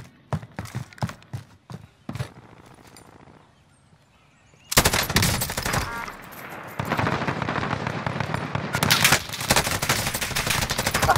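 Bursts of gunfire from an unfamiliar weapon in a video game: sharp, closely spaced shots at first, then a pause, then loud sustained shooting that is close and dense. No one speaks.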